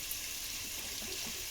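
Water pours from a tap into a cooking pot for making spaghetti sauce broth, a soft continuous splashing stream, faint and close.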